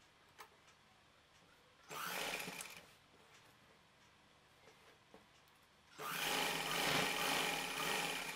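A sewing machine stitches fabric for a child's shorts in two loud bursts, one short and one longer, separated by a quiet pause with faint handling sounds.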